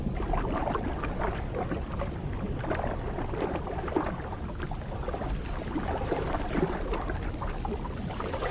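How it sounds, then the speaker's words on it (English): Spotted dolphins swimming underwater in the open sea give off a steady stream of dense clicks and rising, falling high whistles over a continuous wash of water noise, with no voices. "As dolphins swim, they constantly make sounds of all frequencies"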